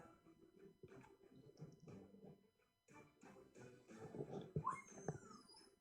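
A dog behind a closed door gives a series of faint whimpers and whines in uneven bursts. A high, thin cry comes near the end, heard from a distance in a quiet room.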